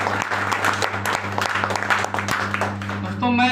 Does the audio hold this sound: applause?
yes